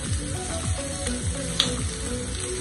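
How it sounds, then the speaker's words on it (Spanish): Prawns brown in a frying pan with a constant close sizzle and light crackling, with one brief sharp tick partway through and no voices. "ya los podemos voltear y los vamos a dorar por un minuto y medio más"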